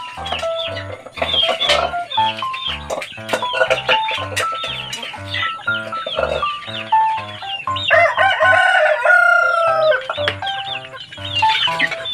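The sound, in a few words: chickens crowing and clucking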